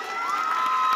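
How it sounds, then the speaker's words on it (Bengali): Audience at a live event for the Bengali TV serial Anurager Chhowa claps and cheers, a dense, steady wash of crowd noise filling a brief moment without any speech. "তাই নিজেদের জন্য একটা জোরে হাততালি হয়ে যা"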